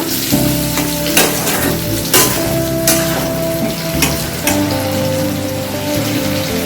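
Tomatoes and slit green chillies frying for a Bengali egg curry, a loud steady sizzle with a few sharp spatula scrapes against the pan and no talk.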